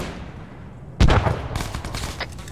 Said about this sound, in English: Incoming shots, I don't know from where.